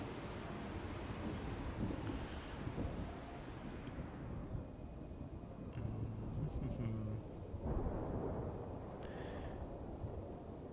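Stormy weather in Total War Warhammer 2 at sea, a steady broadband roar of wind and rain with low rumbling swells, staying loud and continuous throughout with brief faint tonal game effects.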